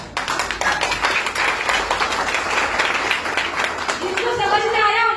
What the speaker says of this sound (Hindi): जिनको समझ में आया उन्होंने ताली बजा दी